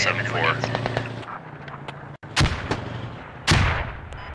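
Frag grenade explosions in the military shooter Squad, two heavy close blasts a second apart near the end, following scattered distant gunfire, with voices talking over the battle.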